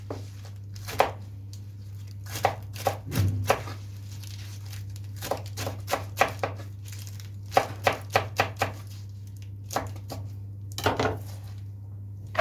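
A knife chops arugula and curly lettuce for a winter salad served with oven-baked anchovies, landing sharp, close thuds on a cutting board in irregular bursts over a steady low hum.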